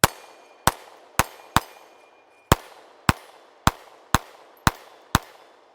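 Taurus GX4 handgun fired at a 100-yard target outdoors: nine sharp, loud single shots spaced irregularly about half a second to a second apart, each followed by a brief ringing decay, no talking.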